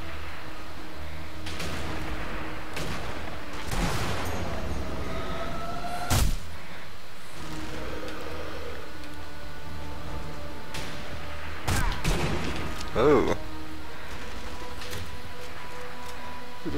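Gunfire in the World War II sniper game Sniper Elite V2: several sharp shots spread across a busy, rumbling battle soundscape, with a couple of loud nearby cracks standing out from the distant background fire.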